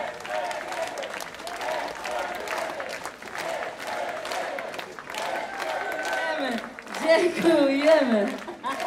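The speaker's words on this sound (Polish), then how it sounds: "Wielkie brawa!" A crowd cheers and applauds at the 2020 country picnic concert in Siemianowice Śląskie, a steady roar of clapping and shouts beneath loud talk that swells near the end.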